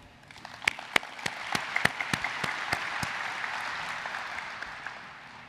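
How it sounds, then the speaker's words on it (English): Audience applause at the State of the Port 2015 event, starting with a few sharp, loud individual claps before swelling into a dense, steady wash of clapping that slowly fades toward the end. "So, applause to all of you."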